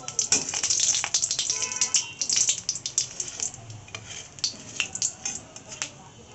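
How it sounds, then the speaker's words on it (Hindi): Whole spices — black cumin and bay leaf — sizzling and crackling in hot ghee, a steady close frying hiss with sharp spattering pops and occasional stirring and utensil clinks, no voices. "इसमें हम बस ज़रा सा तड़का लगाएंगे काले जीरे का।"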